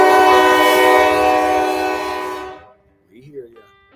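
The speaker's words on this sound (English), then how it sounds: "Here comes a train, so choo choo." A train horn blasts loud and sustained with rich harmonic tones for over two seconds as a train passes, then cuts off abruptly, leaving faint rumble and a brief voice afterward.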